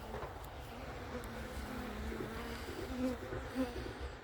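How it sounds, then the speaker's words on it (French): Honeybees from a recovered swarm buzz in a steady, close drone with a faint wind rumble underneath, lasting the whole stretch without pause. "Les abeilles s'énervent sur le téléphone."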